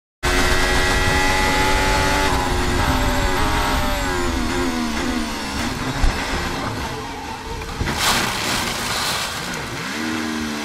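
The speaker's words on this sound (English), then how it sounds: "That is way too much engine braking." A Formula 1 car's engine roars loud and continuous as the car spins under heavy engine braking on a 2023 race circuit, pitch sweeping and stuttering downward with a brief sharp burst midway.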